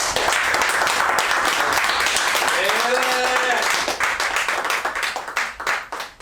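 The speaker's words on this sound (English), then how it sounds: "Give a round of applause for my man Slink" An audience at a live comedy and variety show applauds loudly and steadily, with a brief whoop or whistle partway through; the clapping thins toward the end.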